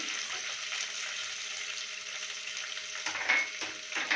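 Upma ingredients frying in a pan make a continuous close sizzle, followed by a few stirring scrapes near the end, with no talking.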